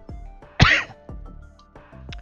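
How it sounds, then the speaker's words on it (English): A single sharp cough bursts out loud and close in a quiet indoor space, with faint background voices and murmurs before and after it. "that was like a cough."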